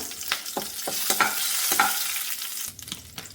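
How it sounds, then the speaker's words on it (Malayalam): Mustard seeds, dried red chillies and curry leaves crackling in hot oil in a pan with the stove switched off, a steady close sizzle with sharp pops and stirring scrapes, no voices. "കടുക് പൊട്ടിക്കഴിഞ്ഞിട്ടുണ്ട്. ഇതിലേക്ക് ഇനി വറ്റൽ മുളക് ഒരു 3 എണ്ണം പിച്ചിട്ട് കൊടുക്കാം."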